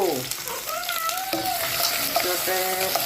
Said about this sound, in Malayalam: വെളിച്ചെണ്ണ ഒഴിച്ച് ഇതാ ഞാൻ വലിയൊരു ഉള്ളി എടുത്ത്